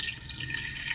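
Water is poured into a pressure cooker holding spices, a short, faint splashing trickle.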